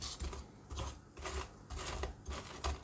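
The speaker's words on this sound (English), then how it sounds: "Make a nice rustling sound when they're moved about." Soft crisp rustling and scraping comes in short bursts, roast potatoes being shuffled around in an Actifry air fryer, with brief pauses between movements.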